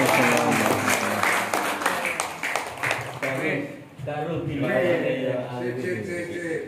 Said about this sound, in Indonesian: Tepuk tangan untuk ketiga tokoh.